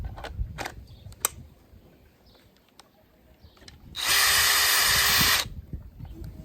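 A cordless power tool fitted with a Makita battery whirs at high speed for about a second and a half, loud and close, after a few quiet clicks and handling knocks while the battery is slotted in.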